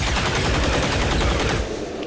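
Rapid automatic gunfire in XCOM 2: War of the Chosen, a dense burst of loud close shots rattling for about two seconds before trailing off.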